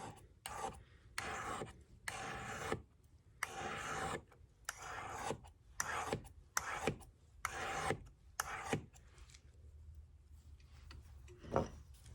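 A stainless steel knife being sharpened with a field sharpener, heard as a series of close rasping strokes about one second long with brief gaps between them, the strokes thinning out toward the end, with no talk.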